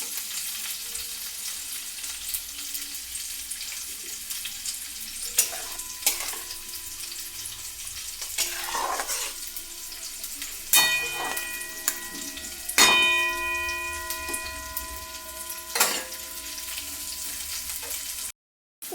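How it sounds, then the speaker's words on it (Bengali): Coriander leaves stirred into a simmering potato, pumpkin and chickpea curry, with a few spoon scrapes and taps against the pot over a soft steady background; no talking. "ধনিয়া পাতাটা দিয়ে একটু নাড়াচাড়া করে দিয়েছি।"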